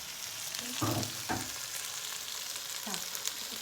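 Food frying in a pan, stirred during cooking of a home lunch, with a steady soft sizzle under several brief scraping strokes of the utensil, close and fairly quiet.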